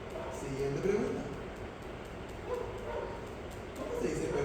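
Small dog barking sound effect played in a Guarani language-learning app, a few yips and bow-wows at moderate volume under ongoing talk and background noise.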